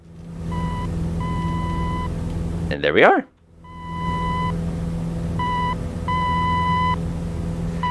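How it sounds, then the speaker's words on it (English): Repeating steady electronic beep tones from a navigation radio station in Microsoft Flight Simulator sound in short and longer pulses over a constant low engine drone, with a brief burst of other noise midway and a voice speaking once. "you're going to start hearing the beeps and boops again"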